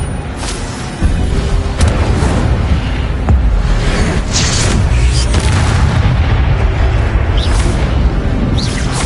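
An Incendio fire spell is cast during combat in Hogwarts Legacy on PS5, its blast sitting inside loud, continuous booming and crackling battle noise that swells just after the start and stays dense to the end.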